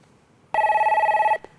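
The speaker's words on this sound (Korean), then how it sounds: "전화 연결해 볼게요" A telephone rings once in a single sustained electronic burst of about 0.8 seconds as a viewer's call is connected on a Korean stock-market TV phone-in show. It is loud and clear over a quiet background, followed by a brief faint click.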